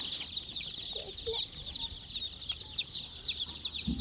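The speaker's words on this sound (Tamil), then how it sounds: "நாட்டு கோழி குஞ்சு இங்க இருக்கு பாருங்க" Many young native chicken chicks peep constantly in high, rapid chirps, a busy overlapping chorus, with a few soft low clucks and rustles underneath.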